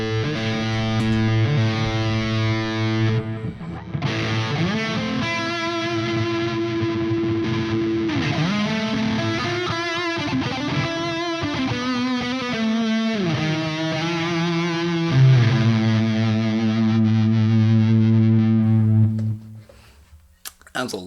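Electric guitar through a Sonicake Black Hammer distortion pedal with the boost on, thick sustained distorted chords and bending notes played continuously and loud, ending abruptly.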